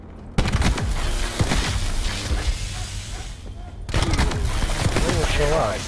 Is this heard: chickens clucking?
no